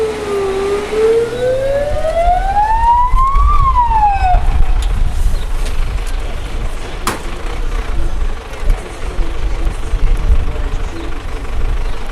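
Fire rescue vehicles arrive during a school safety drill, one siren rising and wailing loudly near the start before fading under continuous engine rumble and outdoor noise.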